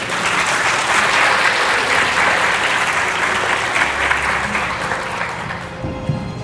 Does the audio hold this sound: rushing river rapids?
no